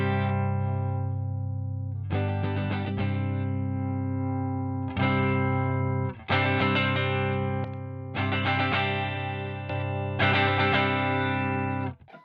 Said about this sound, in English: So instantly, this compressor makes it a bit fuller.